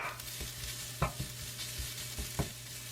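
Carrots stir-fry in a spoonful of olive oil with a soft, close sizzle, broken by quick spatula scrapes and taps against the pan about every half second.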